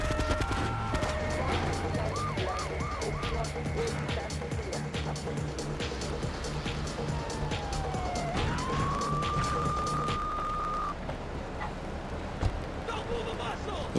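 Ambulance siren in the GTA III video game, wailing and yelping in repeating sweeps over steady traffic and engine noise, fairly loud and continuous, with a long rising tone near the end.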